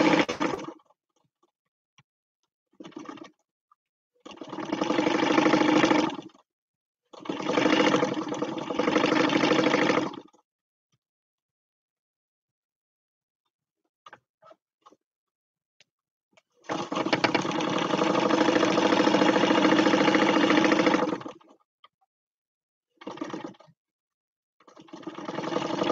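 Sewing machine stitching quilting lines on a fabric napkin journal, running in several bursts of steady whirring of a few seconds each, the longest about four seconds, separated by quiet pauses and small clicks.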